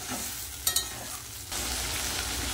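Masala for a pea and paneer ghugni sautés in oil with a steady hiss, a couple of sharp utensil clicks in the middle, then the sizzle swells louder.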